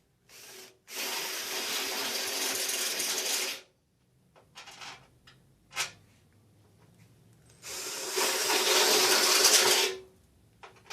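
A power drill bores pilot holes, then a step bit enlarges them, while fitting an ARB Safari snorkel to a Toyota Tacoma; two long, loud whirring bursts separated by brief clatter and pauses.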